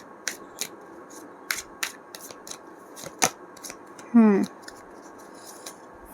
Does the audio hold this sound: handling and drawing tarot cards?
yes